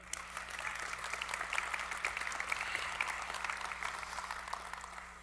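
An audience at an IT industry forum keynote applauds in a steady, moderate wash of clapping that holds for several seconds, heard from a little distance.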